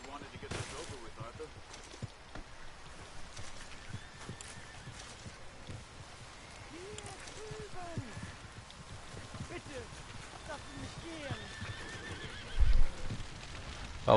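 Horses in Red Dead Redemption 2 give several whinnies and neighs over soft hoof clip-clops and light rain. Someone talks over the horses throughout, with a sharp thump near the end.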